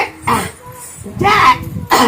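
Several sharp, rough coughs from a nearby person, coming in short bursts with brief pauses between them.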